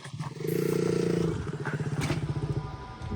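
Stunt motorcycle at a stunt academy, engine held at a steady revving drone, then dropping into a choppy, pulsing idle and blipping throttle, fairly close and moderately loud.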